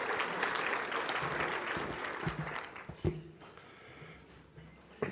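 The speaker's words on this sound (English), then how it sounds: "just a quick round of applause for Ryan, Katie, and Brittany" Banquet audience at a golf association awards dinner clapping in a steady, moderately distant wash that thins out after a few seconds into scattered claps and room noise.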